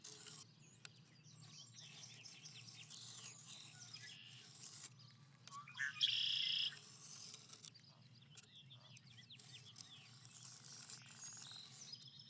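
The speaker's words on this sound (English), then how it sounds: "Nice to hear the frogs back out and the birds." Birds chirp and tweet outdoors among frogs and insects, with quiet, scattered calls over a soft continuous background and one brief louder trill partway through.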